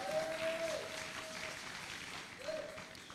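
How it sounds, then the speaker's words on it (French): A church congregation bursts into applause, a short wash of clapping that fades over a few seconds in a large hall, with a faint sustained tone underneath. "Acclamons très fort la parole du Seigneur"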